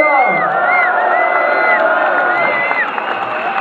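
A concert crowd at the Trianon cheers, whoops and applauds in a loud, continuous burst of shouting voices.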